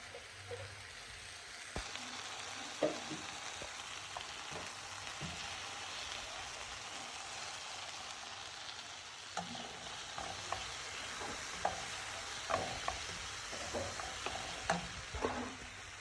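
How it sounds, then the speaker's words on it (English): Previously fried okra gets stirred into a pan of vegetables, giving scraping and clattering stir strokes over a soft continuous sizzle, with the strokes coming irregularly across the whole stretch. "add your earlier fried okra, mix well"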